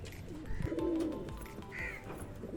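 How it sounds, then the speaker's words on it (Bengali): A male Chennai-breed pigeon gives brief cooing calls nearby, a few short throaty phrases with small pauses, among other pigeons. "চেন্নাই ব্রিডের একটা নর পায়রা"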